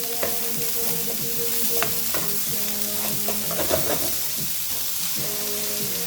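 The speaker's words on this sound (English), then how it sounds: "I want to add this and just combine them together to make my chili." Jackfruit chili ingredients, including carrots, are stirred together in a pan with a constant sizzling hiss, scattered scrapes and taps of the spoon, close and steady.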